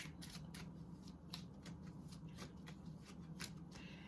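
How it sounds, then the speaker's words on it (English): Romance angel cards are shuffled and pulled by hand in a quiet room, a quick run of soft papery riffles and flicks repeating steadily throughout without talk. "Let's pull a romance angel card for you"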